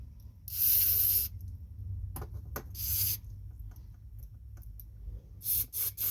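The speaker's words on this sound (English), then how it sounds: "And you want to spray on every little hole that you can find" Several sharp hissing bursts of carburetor cleaner sprayed into the jets of a Briggs & Stratton 5 horsepower engine carburetor, a long one near the start then shorter squirts, with faint clicks between them.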